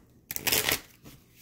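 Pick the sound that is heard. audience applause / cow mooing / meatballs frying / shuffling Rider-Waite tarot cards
shuffling Rider-Waite tarot cards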